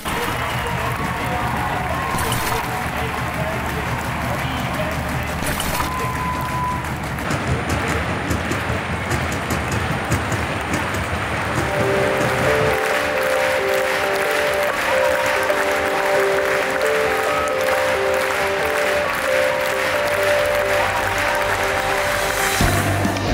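A large stadium crowd at a high jump event claps and cheers without a break, a loud dense wash of applause heard from within the stands.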